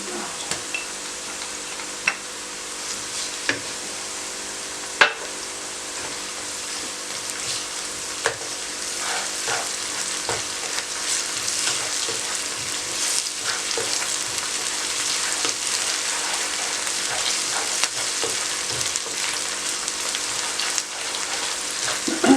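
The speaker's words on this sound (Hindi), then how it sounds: "अब इसमें लहसुन पेस्ट डालूंगी" Garlic paste frying with softened onions in a pan for moong dal khichdi, a steady close sizzle with scattered crackles and pops, alone without talk.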